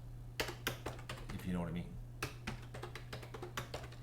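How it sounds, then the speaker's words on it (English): A computer keyboard is pounded while a password is typed, sharp uneven clacks in short bursts, with someone speaking briefly partway through. "you could probably tell by the pounding of the keyboards what my password was"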